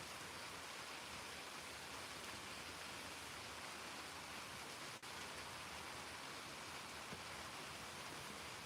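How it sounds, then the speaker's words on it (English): Rain falls at night in Philadelphia, Mississippi, a steady dense hiss that stays even and unbroken throughout with no voices. "It's a raining in Philadelphia, Mississippi."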